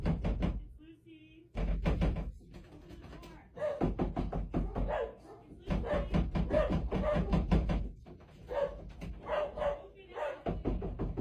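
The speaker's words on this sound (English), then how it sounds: "Knocking can be heard on her door" Aggressive knocking pounds on a bedroom door in rapid bursts of loud, sharp raps, pausing briefly between volleys across the whole stretch, with a few low thuds mixed in.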